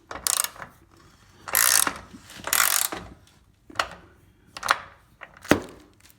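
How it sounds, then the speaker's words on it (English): Screws being driven into a wall-hung toilet mounting frame during a bathroom install, heard as short bursts of ratcheting, whirring driver noise repeated about six times with quiet pauses between, close and fairly loud. "so now I'm gonna screw these down, get everything mounted."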